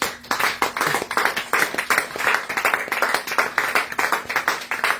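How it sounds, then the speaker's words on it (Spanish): A congregation at a Spanish-language church worship service claps in a lively rhythmic beat, dense hand claps repeating steadily and close with no talking over them. "Den aplauso a la gloria de Dios"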